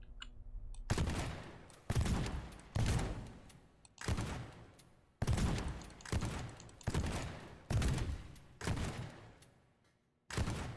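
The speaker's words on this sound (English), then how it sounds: "Best way to break it up is to use a good old shotgun" Shotgun blasts in the video game Teardown, about eight loud, booming shots spaced roughly one to two seconds apart, each followed by a decaying rumble and crash, with no speech.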